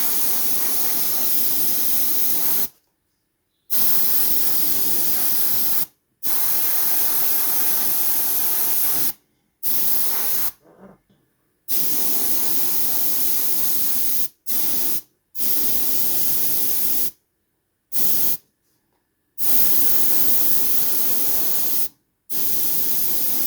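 Flat white aerosol paint going onto a model kit as a final coat, long loud hissing spray bursts of several seconds each, broken by short silent gaps, close and without any talking.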